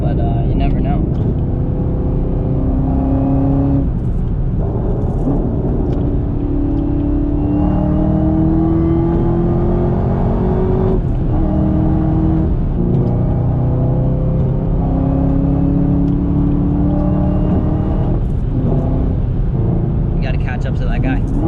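Honda S2000 on a drive home along the road, its engine droning steadily with repeated rises and falls through the gears, heard loud from inside, with people talking at times over it.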